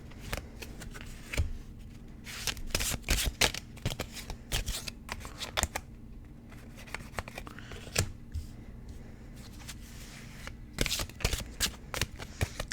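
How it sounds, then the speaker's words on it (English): Tarot cards are shuffled up close in a quiet room, a long run of crisp riffling and soft slapping bursts with uneven rhythm, no talk over them. "I'm just shuffling some cards now."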